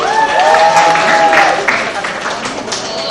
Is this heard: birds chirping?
no